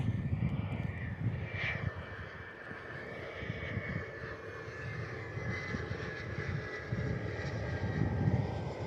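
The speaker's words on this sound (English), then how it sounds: "Next in Unity 6501 surfs in from Leinster with the Fokker 100 inbound today." A Fokker 100 jet arriving at Perth Airport produces a steady, moderately distant engine roar with a faint high whine, continuous and without talk.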